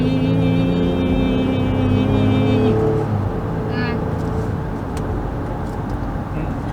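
A 2022 Honda Passport TrailSport SUV at full throttle: a loud, steady engine drone that rises in pitch before settling into a constant roar of road and wind noise, with people talking over the start.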